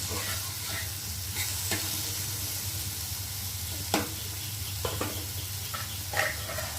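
Potatoes fry and sizzle in a pan with tomato while a utensil stirs them, producing a steady close hiss broken by several sharp scraping strokes, with no voices.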